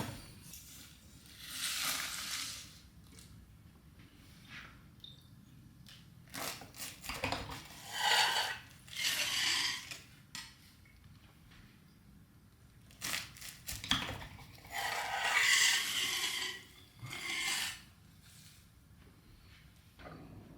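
A knife cuts through a cream slice pastry in a kitchen, giving several separate crunchy, crackling bursts as the flaky layers break, with quiet gaps between cuts.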